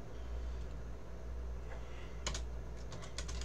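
Computer keyboard typing while code is written, a short burst of quick, light key clicks near the end over a quiet room hum, no talking.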